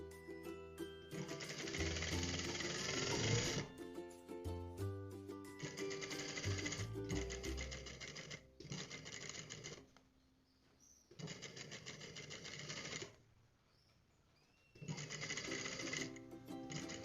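Sewing machine stitching a pocket closed, running in several loud bursts of rapid needle chatter separated by short pauses and a few quiet gaps.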